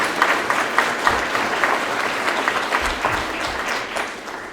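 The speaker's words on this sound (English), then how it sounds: "So let's give a round of applause to all our volunteers." A room full of people applauds volunteers at a year-in-review event, a steady dense wash of clapping sustained for several seconds before starting to thin out.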